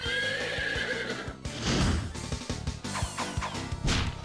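A horse neighs loudly, then hooves clatter alongside crashing impacts and whooshes, a sound effect sequence from the trivia game You Don't Know Jack Volume 2.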